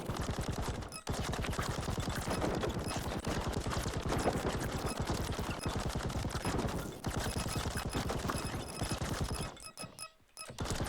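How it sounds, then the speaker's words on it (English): Machine guns in the mech game Mercenary Battle Company fire in a dense, continuous rattling stream, loud and unbroken for most of the stretch, with brief gaps near the start and end. "the machine guns build up heat quickly, but everything dies so fast you have plenty of time to let the heat wear off anyways"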